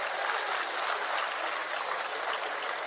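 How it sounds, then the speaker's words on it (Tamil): A crowd gives dense, sustained applause at a college prize ceremony. The clapping stays loud and even throughout with no speech. "உங்களின் பலத்த கைத்தட்டலோடு"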